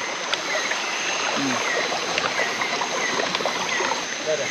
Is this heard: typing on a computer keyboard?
no